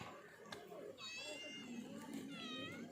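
A cat meows in several drawn-out, wavering calls, fairly close, with a dog's household nearby and someone talking over and between the cries.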